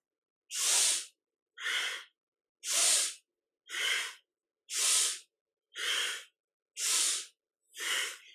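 Powerful rhythmic yogic breathing in a kundalini kriya: eight strong, evenly spaced breath bursts, close and loud, each a forceful rush of air separated by brief silences.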